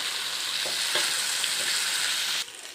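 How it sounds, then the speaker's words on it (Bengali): Boiled potatoes fry in hot mustard oil with dried chilli powder and cumin in a kadai, giving a loud, steady, close sizzle with faint stirring scrapes before it suddenly drops quieter at the end. "আলুটা ভালোভাবে ভাজা হয়ে গেলে"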